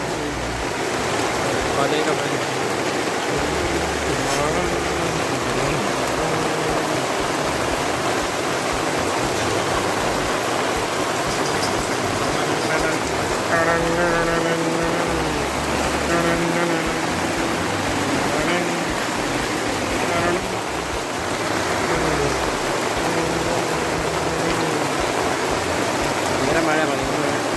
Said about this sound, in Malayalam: ഭയങ്കര മഴ കേട്ടോ ഭയങ്കര മഴ ഇപ്പം